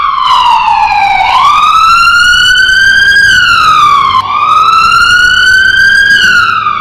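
Emergency vehicle siren wailing loudly and continuously near schools in Delhi after a bomb threat, as ambulances and fire brigade arrive, its pitch sweeping up and down in long rising and falling cycles with no talk.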